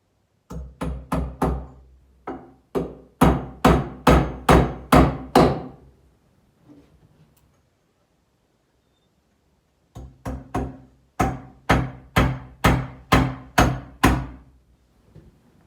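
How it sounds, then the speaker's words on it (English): A hammer drives double-head nails into a wooden stud, two bursts of sharp, evenly spaced close blows, about a dozen strikes each, separated by a few seconds of quiet. "I'll nail that on the stud."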